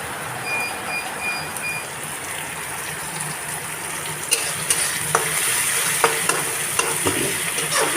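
Food fries in a pan while a utensil stirs it, a constant sizzle with scraping knocks near the end, and heavy rain falls outside.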